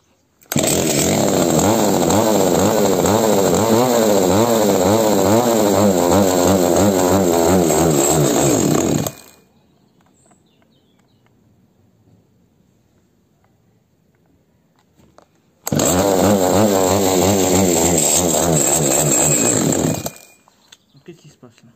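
A Zenoah G300 two-stroke engine running during carburetor adjustment, a loud, buzzing high-revving drone that holds steady for several seconds, cuts out to near silence, then starts again.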